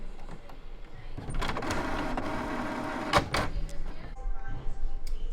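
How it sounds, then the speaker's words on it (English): A printer runs through a tattoo stencil job on a regular sheet of paper, a steady mechanical whir and rumble of a few seconds, close and fairly loud, with clicks and clunks of the paper feed before and after. "I shoot it over to the printer. See, that's the stencil. So now it says printing."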